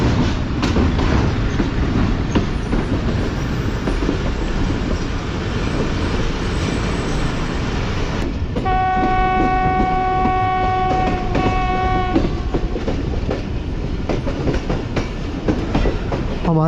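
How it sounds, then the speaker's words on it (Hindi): Karachi Express passenger train leaving a bridge into a right curve, heard from aboard as a steady loud rumble of wheels and clatter, with a sustained horn-like tone in the middle and a faint squeal near the end. "पीछे जो है ट्रेन ब्रिज से निकल रही है और एक राइट कर्व लेते हुए आगे बढ़ रही है कोठी जंक्शन की तरफ"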